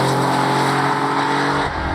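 Air-cooled Porsche 911 Turbo 3.3 (930) flat-six with turbocharger, a steady loud engine drone with a rich, even tone that holds throughout and dips slightly near the end, with no talking.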